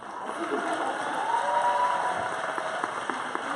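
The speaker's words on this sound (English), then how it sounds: "give her a huge round of applause" A conference audience at a tech summit claps for someone speaker, a dense even patter of many hands holding steady throughout at moderate distance.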